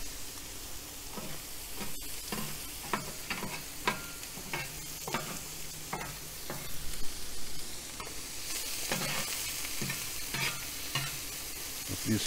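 Bacon and sausage sizzle steadily on a griddle beside seasoned beef, with repeated scraping and clicking taps of a spatula across the hot surface, close and moderately loud with no talking.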